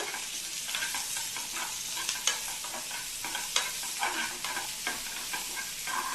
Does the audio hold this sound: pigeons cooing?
no